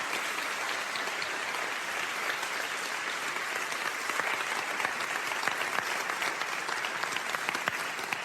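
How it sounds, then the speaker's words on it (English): An audience applauding at a spiritual talk, dense, sustained clapping from many hands filling the room at an even level throughout, with no voices. "you should applaud because she deserves that"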